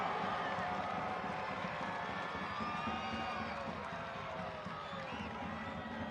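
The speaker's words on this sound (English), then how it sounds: "The crowd roars" A soccer stadium crowd roars after a goal in a Richmond Kickers vs. Loudoun United U.S. Open Cup match, a sustained distant wall of cheering heard fairly faintly and steadily throughout.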